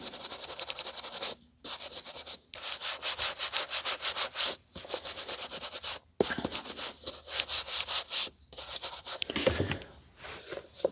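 An eraser rubs briskly back and forth on a vintage Collins White, close-up scratchy strokes in repeated bursts separated by short pauses, with no talking.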